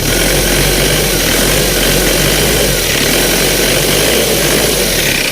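A 2.5-litre diesel Isuzu TFR pickup engine idles with a steady, knocking rumble close by while someone speaks briefly over it.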